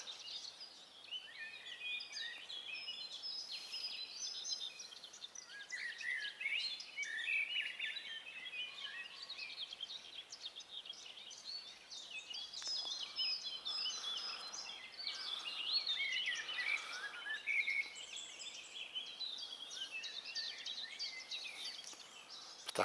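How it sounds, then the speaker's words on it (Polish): Birds sing outdoors beside a fishing spot, with overlapping chirps and warbling trills continuing steadily for the whole stretch at a moderate distance, with no talking. "Ptaki ładnie śpiewają."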